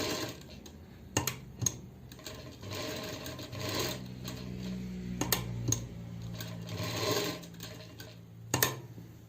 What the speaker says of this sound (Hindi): अब देखो स्टिचिंग कैसे करनी है इस पे